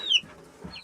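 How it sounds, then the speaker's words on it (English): A rooster gives a brief single cluck, close and clear, in a very short moment with no talking. "Oh, that's a rooster."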